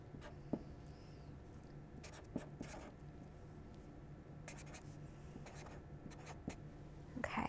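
A pen writes out a number on paper in a quiet classroom, soft scratchy strokes and light taps in short irregular bursts, close and faint.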